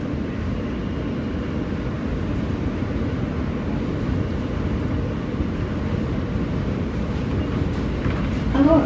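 A Manhattan-bound W local subway train in New York, leaving Queensboro Plaza toward Manhattan, rumbles steadily and loudly at close range, a continuous low roar of wheels and motors from inside the car with a slight swell near the end.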